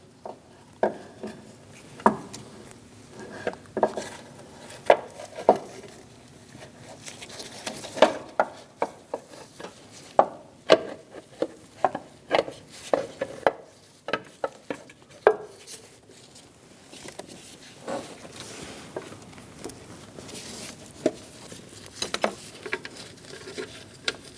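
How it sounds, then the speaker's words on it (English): Light plastic-and-metal taps and clicks come as a valve cover is set down and seated on a 2005-2009 Subaru Legacy engine. The scattered clunks and rattles are close, with small gaps between them, and no one speaks. "Install the valve cover down into place."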